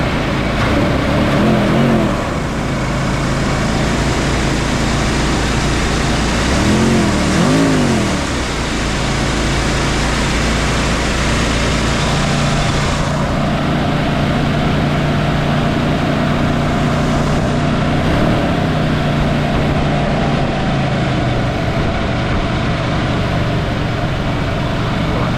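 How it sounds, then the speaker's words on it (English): A 1965 Ford Mustang convertible with a 289 V8 runs close by, idling fast and high for the whole stretch, with a couple of short revs early on before it settles into a steady drone. "Just got it started, so it's revving just a little high."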